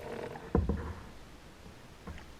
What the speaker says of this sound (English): After some time paddling,